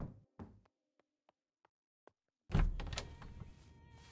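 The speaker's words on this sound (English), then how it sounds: "You're beating on my back door?" Someone hammers on a back door in Project Zomboid: a couple of heavy thuds, then a string of faint, evenly spaced taps, followed by a louder rattling clatter.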